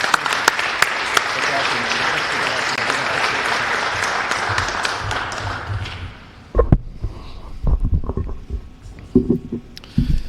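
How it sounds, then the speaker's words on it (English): Audience applause at the Lindenwood men's ice hockey introductory press conference for coach Bill Muckalt: dense, steady clapping for about six seconds, then it stops and scattered thumps and small room noises follow. "let's give another applause to Coach Muckalt"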